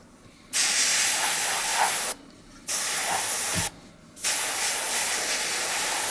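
Spray paint hisses onto a model Panzerkampfwagen 38(t) Ausf. E/F tank in light coats, three steady bursts of close, loud hissing broken by brief pauses.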